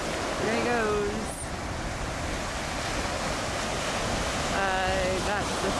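Ocean waves and wind on a Florida beach during surf fishing for pompano: a steady, loud roar of surf with wind buffeting the microphone, while birds call faintly near the start and end.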